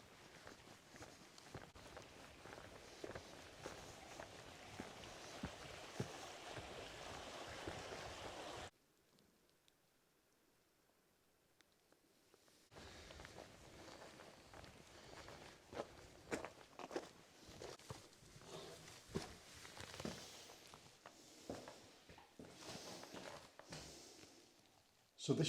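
Steady footsteps crunch along an open trail in the remote Yorkshire Dales, close and continuous, pausing briefly midway before resuming at a walking pace.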